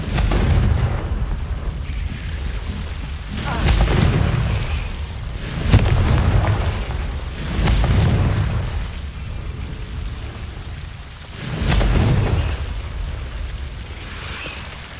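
Repeated heavy booms from the Confringo blasting spell in the video game Hogwarts Legacy, roughly five deep explosive bursts spaced a couple of seconds apart over a continuous rumbling game background, with no talking.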